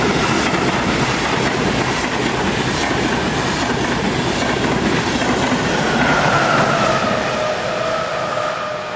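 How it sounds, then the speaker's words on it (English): Locomotive 140537 restarts a freight train out of Laufach with a steady, loud rumble and rhythmic wheel clatter that carries on without a break and has no voices. "Here, 140537 restarts its train out of Laufach."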